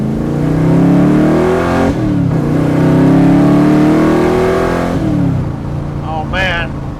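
A 1965 Shelby Daytona Factory Five replica's V8 revs loudly up close in a few rising pulls, the engine note climbing and dropping back, with a brief voice near the end.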